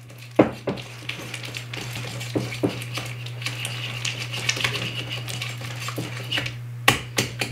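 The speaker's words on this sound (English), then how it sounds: "cream it around with your whisk" A whisk creams room-temperature butter in a bowl, making irregular light clicks and taps against the bowl over a steady low hum, with no voices.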